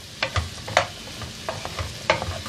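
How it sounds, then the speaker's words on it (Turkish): Mushrooms sizzle in a hot pan while a utensil scrapes and stirs in irregular strokes, close and fairly loud, with no talking. "Mantarlarım önce suyunu salacak ondan sonra çekene kadar güzelce kavuralım."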